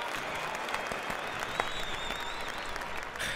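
A canned applause sound effect plays during a game stream, a steady burst of crowd clapping at moderate volume with no talk over it.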